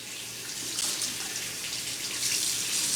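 Tap water runs steadily and close by into a sink, a continuous bright hiss with slight splashing as leaves are rinsed off the pages of a boiled book.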